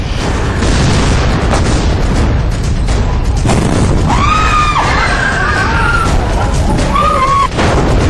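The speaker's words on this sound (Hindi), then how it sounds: "यहां बम नहीं, सिलेंडर फटा है।" An LPG gas cylinder explodes in a house in Delhi, a loud blast booming amid sustained roaring noise, followed by people screaming and shouting in panic.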